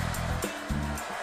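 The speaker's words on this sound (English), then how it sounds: "Clearly my hairdryer from home." A steady, loud whoosh of a hair dryer blowing, a broad rushing airflow with a low motor hum that shifts slightly in pitch.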